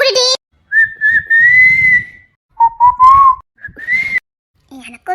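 A person whistles several clear, sustained melodic phrases at moderate loudness, with short gaps and some low background noise between them.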